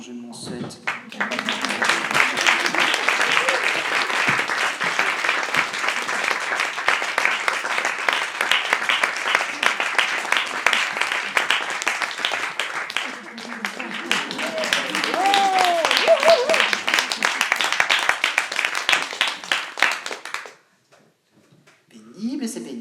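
A theatre crowd at a French stage show keeps clapping for about twenty seconds, a loud, continuous ovation with a voice briefly audible partway through, then stops abruptly.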